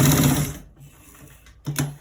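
Sewing machine stitching a trouser back pocket: a brief whirring run that stops, then a short second burst, close and fairly loud.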